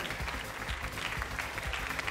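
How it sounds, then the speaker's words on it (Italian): Audience applauding at a hair show in Riccione, steady dense clapping throughout with a few louder claps standing out. "Un grande applauso al nostro gruppo stilistico"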